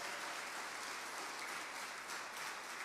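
A church congregation applauds in a steady, dense patter of many hands that runs evenly from start to finish without a break.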